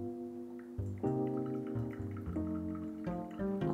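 Hot water is poured into a pour-over coffee dripper, a steady trickling fill with ringing tones that shift in pitch as the vessel fills, close and fairly quiet.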